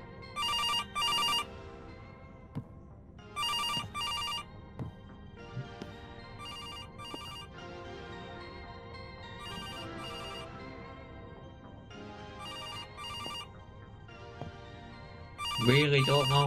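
A telephone rings in repeated bursts of electronic chimes, with long pauses between them, loud against a quiet background, with scattered knocks and clicks and a louder final ring.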